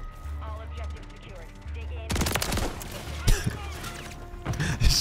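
A Haymaker automatic shotgun with a Jak Maglift setup fires in Call of Duty MW3, a loud, rapid burst of blasts with gameplay noise, heavy impacts and some background talk mixed in.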